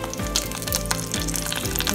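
Curry leaves crackle and sizzle in hot oil for tempering a Tamil spinach masiyal, a close, steady frying hiss with sharp popping bursts.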